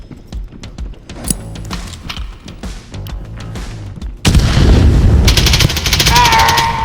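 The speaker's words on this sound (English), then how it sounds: "I got hurt myself with that nade." In Exfil Zone, rapid clicks and gunfire clatter give way to a sudden loud grenade blast that fills the soundscape with a dense, roaring rumble lasting to the end.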